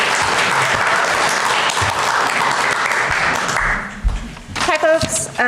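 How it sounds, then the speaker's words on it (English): A meeting audience gives a speaker a burst of dense applause that stops after about four seconds, followed by a voice starting to talk. "Let's give a round of applause to Jessica to give us an update."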